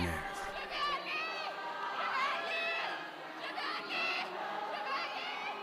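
Loud, continuous shouting and high screams from a crowd during a deliverance prayer session in Burkina Faso, with overlapping voices rising and falling throughout.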